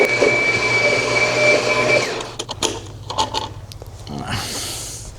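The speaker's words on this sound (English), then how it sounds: "deep dry clean the carpet properly using the Kirby" A Kirby vacuum cleaner with vibration technology deep dry cleans a carpet, its steady motor drone running loud and close for about two seconds, then giving way to intermittent bumps, clatter and handling noise.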